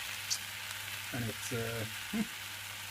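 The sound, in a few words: food frying in Cerafit frying pan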